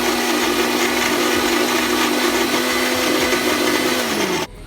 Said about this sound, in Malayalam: അപ്പോൾ നമുക്ക് മിക്സിയുടെ ജാറിലിട്ട് ഒന്ന് കറക്കിയെടുക്കാം